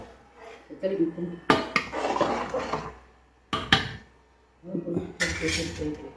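Ladle scraping and knocking against a large metal pot while stirring sambar that is boiling and catching on the bottom, a batch made for 300 idlis; bursts of clattering stirring alternate with short pauses and a person talking nearby.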